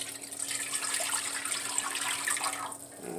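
Water running steadily into a hot skillet set on medium heat, a continuous close splashing pour for the whole stretch with no talk.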